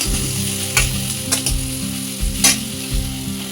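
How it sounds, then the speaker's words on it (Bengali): Chopped onion fries in hot oil in a pan and is stirred while a vegetable chop filling is prepared. A continuous close sizzle is punctuated by several bright scraping knocks of a spoon against the pan, and no one speaks. "পেঁয়াজ দিয়ে একটু নাড়াচাড়া করে নিই।"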